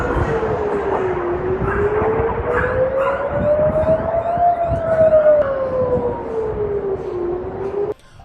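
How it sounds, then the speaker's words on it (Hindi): An air raid siren wails loud and continuous in Israel, its pitch rising slowly, then falling and rising again, before cutting off abruptly near the end. "जैसे ही हवाई हमलों के सायरन बजते हैं"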